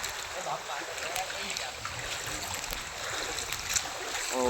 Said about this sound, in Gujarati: અમારે તો રસોડામાં પણ પાણી ગળી ગયું છે. હાલે પાણી આવે છે.